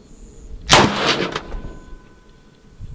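A single rifle shot with Federal Match ammunition cracks out loud and close at long-range target shooting, a sharp blast followed by a short rolling echo that fades into quiet.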